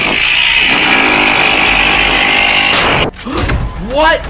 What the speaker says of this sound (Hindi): अब देखना मेरी ड्रिल मशीन का कमाल।